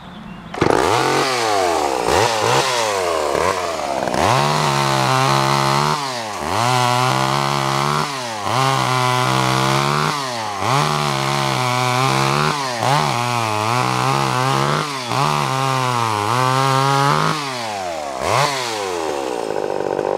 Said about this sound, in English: Poulan micro chainsaw.